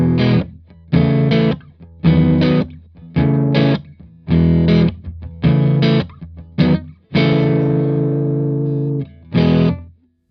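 Dry, crunchy distorted electric guitar through an amp sim with no spring reverb or slap delay, played as short punchy chord stabs with gaps between, ending on a longer sustained chord.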